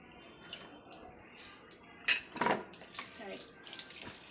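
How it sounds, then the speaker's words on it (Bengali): Rice is washed under a running kitchen tap, a soft continuous water flow broken by splashes and sloshing as the grains are stirred. "চালটা ধুয়ে ভাত বসাবো।"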